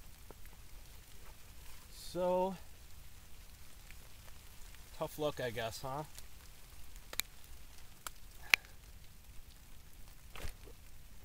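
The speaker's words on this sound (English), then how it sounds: "the rain's picking up again" Steady rain patters outdoors at a lean-to campsite as a soft, constant hiss with occasional louder drops and taps, while someone speaks briefly nearby.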